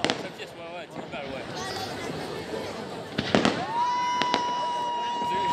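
Fireworks going off over Fribourg on Swiss National Day, with a few sharp bangs and crackles and a long whistling rocket, heard at a distance under crowd noise and nearby people chatting.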